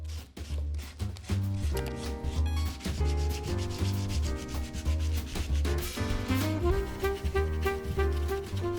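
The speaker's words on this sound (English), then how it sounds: "The next part of our Imigongo art adventure is to sand it." Sandpaper rubs steadily over a dried cow dung Imigongo art panel in repeated scratchy strokes, running under continuous background music.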